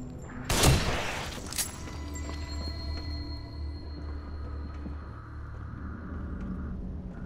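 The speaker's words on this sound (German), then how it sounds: "Ein Schuss für nichts verballert." A gunshot rings out in The Evil Within Remastered, set in a dread-filled subway station: one loud, sharp blast that trails into a low rumbling game ambience, with no voices.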